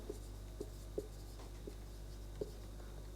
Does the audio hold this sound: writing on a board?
yes